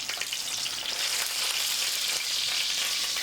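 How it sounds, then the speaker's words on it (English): Lemon slices browning in a hot pan, giving off a steady, dense sizzle of frying that stays close and even throughout, with no talking. "I am going to brown it lightly in the pan, the lemon itself."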